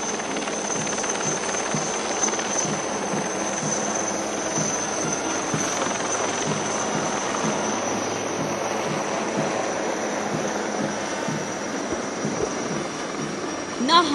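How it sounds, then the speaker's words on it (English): Dhruv helicopters making a flypast at a Coast Guard ceremony, a steady rotor and engine drone holding evenly for the whole stretch, with faint speech in the background. "The first Dhruv helicopter is flown by Commandant Atul and Deputy Commandant Abhishek Deopa."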